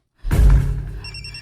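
A telephone rings once with an incoming call, a loud, close electronic ring that starts abruptly and rings on alone without talk.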